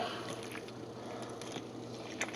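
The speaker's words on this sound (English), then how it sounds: "I already destemmed all these. I'm just crunching them up" Destemmed wine grapes crushed by hand, soft wet squelching and squishing close by, irregular and fairly quiet with occasional sharper pops.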